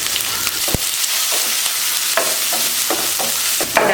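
Chopped onion, carrot and beans sizzle steadily in a hot pan for a few seconds, with sharp clacks of a spoon stirring and scraping breaking through the bright hiss.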